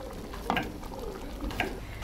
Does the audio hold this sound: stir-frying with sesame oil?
yes